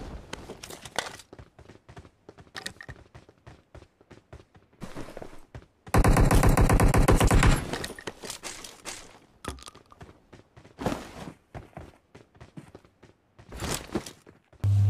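Gunfire in a battle royale video game around a military base: scattered single shots and footsteps, then a loud, rapid automatic burst of about a second and a half, followed by more intermittent shots, with no talking.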